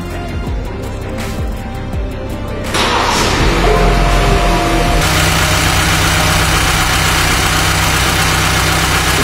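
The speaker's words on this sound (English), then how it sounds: "Start the vehicle." A car fitted with an HHO hydrogen kit cranks over and fires up partway through, then settles into a loud, steady, close-up idle with a constant low vibrating hum.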